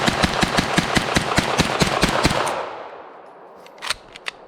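An HK SP5 9mm rollerlock firearm fires a rapid, evenly spaced string of about a dozen sharp, loud shots outdoors, then the echo fades and a few quieter clicks and knocks follow.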